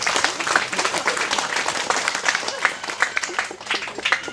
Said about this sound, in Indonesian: Mari kita tepuk tangan buat Tuhan.